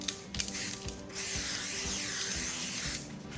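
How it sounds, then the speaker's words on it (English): A close, continuous hiss of cooking spray on a pan lasting a couple of seconds, bracketed by light clicks and handling noises. "I'm going to spray my pan."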